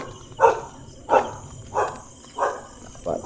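A dog barks at night, giving five evenly spaced, fairly loud barks about every three-quarters of a second against a quiet background.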